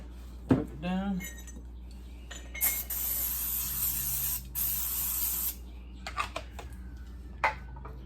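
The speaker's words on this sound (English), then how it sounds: "Now we're going to spray this down with some brake clean." Brake cleaner sprayed from an aerosol can onto clutch bolts during a dual-disc clutch install on a 1986 GMC with a Cummins engine, two steady hissing bursts of a few seconds each, close by, with light metallic clinks and tool handling before and after.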